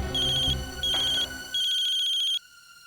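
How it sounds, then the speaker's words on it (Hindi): A mobile phone rings with an electronic ringtone in three loud bursts of a warbling high tone, then cuts off. "किसका फोन है?"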